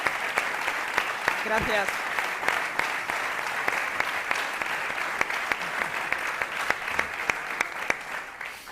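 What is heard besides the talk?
audience applause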